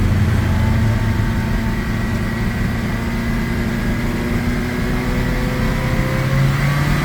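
A Honda Freed car engine revved after carbon cleaning, a steady loud engine drone with slowly rising and falling pitch, close to the microphone throughout.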